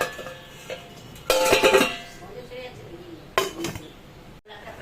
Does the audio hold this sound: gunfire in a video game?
no